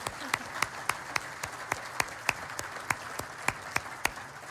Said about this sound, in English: we should give them an applause here